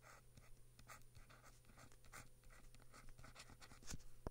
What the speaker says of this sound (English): Maybe I should write that down.